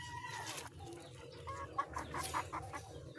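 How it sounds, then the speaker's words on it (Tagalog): Backyard chickens clucking at feeding time in a rural Filipino yard, with soft scattered clucks and short calls over low rumbling background noise, moderately distant. "Ayan, mga apo ko magpapakain na raw kami ng manok"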